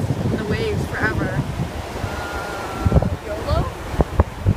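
Ocean waves wash against an island shore in a steady roar of surf mixed with wind buffeting the microphone, while voices talk over the water.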